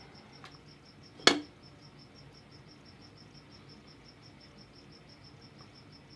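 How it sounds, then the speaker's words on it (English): Inside a tarantula enclosure, a cricket chirps in a fast, regular, faint pulsing trill that runs throughout. One sharp close knock or tap cuts in near the start. "Hopefully I can catch a cricket."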